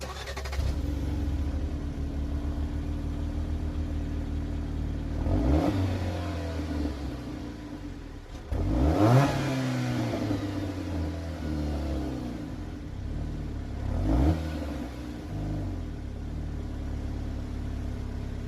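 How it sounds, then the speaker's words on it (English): A 2021 Jeep Compass SUV engine idles with a deep exhaust rumble, then revs three times, each rising sharply and settling back to a steady idle. "I'm just going to give you guys a quick startup."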